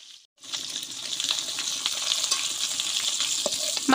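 Fish sizzles steadily in hot oil in a kadai, a dense, close crackling hiss that starts after a brief pause and holds level with scattered sharper pops throughout.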